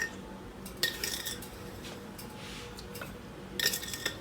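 A spoon scoops sugar from a small jar into mugs, giving a few light metallic clinks and taps, spaced out and faint against a quiet kitchen background.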